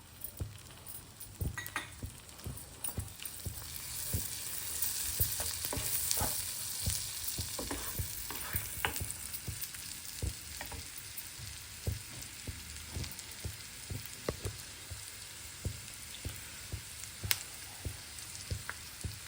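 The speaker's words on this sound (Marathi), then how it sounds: "त्याच्यामध्ये आता आपण लसूण आणि आलं हे घालणार आहोत आणि हे छान आता आपण परतून घेणार आहे" Garlic and ginger sauté in butter in a pan for garlic masala pav, with a continuous close frying sizzle. Frequent sharp scraping and tapping sounds come from a spoon stirring against the pan.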